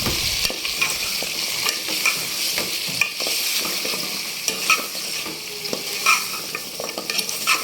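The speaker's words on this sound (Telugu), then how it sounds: "ఇలా మటన్ వేసిన తర్వాత ఒక 2 నిమిషాలు ఆయిల్లో మగ్గాలండి మటన్ అనేది." Boiled mutton frying in oil in a pan for a gongura curry, a loud, dense crackling sizzle broken by frequent ladle stirs and scrapes, near and uninterrupted, without speech.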